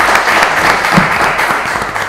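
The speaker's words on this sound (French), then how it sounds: "Merci d'applaudir Yves." An audience in Lubumbashi applauds a quiz contestant with dense, loud, continuous clapping that fills the whole stretch without a break.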